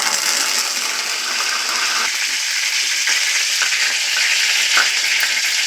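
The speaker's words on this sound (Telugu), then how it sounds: "నూనె వేడైనట్టు జీలకర్ర వేసుకోవాలి" Cumin seeds dropped into hot oil for a fry, crackling and sizzling loudly and continuously close by, with faint stirring clicks mixed in and no voices.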